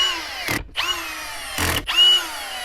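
A power drill whines in two bursts, revving up and winding down as it drives screws back into a Subaru Impreza dashboard, close by with brief pauses and no talking.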